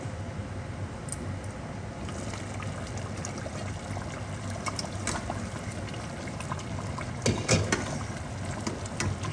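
Rice and meat for Persian-style yakhni pulao bubbling steadily in a pot, a continuous watery churning and gurgle with a few sharper pops and clinks, close and moderately loud.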